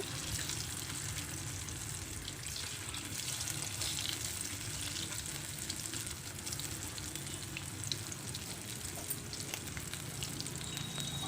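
Millet maker pakodas frying in hot oil, a steady close sizzle with soft bubbling that holds evenly throughout.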